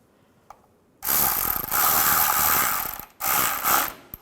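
A ratchet wrench clicks rapidly in bursts as a plastic nut is tightened on the bumper cover of a 2007-2013 Mini Cooper, with two long runs split by a brief pause, loud and close, with no talking.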